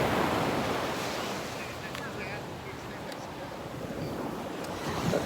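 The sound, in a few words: ocean waves breaking on beach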